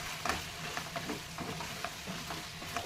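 Ginger and turmeric crackle in a pan for chicken curry as they are stirred, a dense close sizzle with repeated short scraping strokes over a few seconds.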